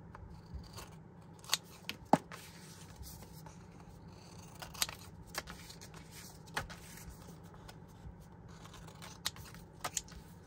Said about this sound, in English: now let's turn these all over. Trim the excess off.